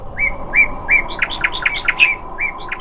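Small cartoon birds chirp in quick, bright repeated tweets, a dozen or so short calls in an uneven rhythm, clear and close, with no talking.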